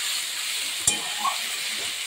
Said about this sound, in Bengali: হলুদ দিয়ে আবারও একটু নাড়াচাড়া করব